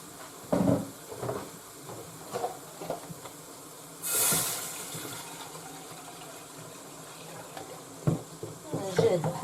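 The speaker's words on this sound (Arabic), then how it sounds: "دابا غادي نزيد عليهم الحليب." Milk pours into a pan of lasagna sauce in a brief, soft liquid rush in the middle, amid kitchen clatter and quiet handling noises.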